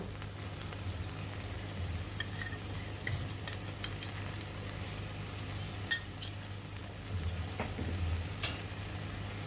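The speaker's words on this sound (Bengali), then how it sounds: "এখন সবজি মশলার সাথে ভালোভাবে আবার কষিয়ে নিতে হবে" Okra frying in a pan with turmeric, chili and coriander powder: a steady, even sizzle that runs throughout, broken by a few sharp scraping clicks of a spoon stirring the vegetables against the pan.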